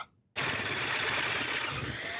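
Small holes in a light fixture being drilled out to 5.5 mm: a sudden, steady high-speed whine of the drill starts after a brief pause and runs continuously up close.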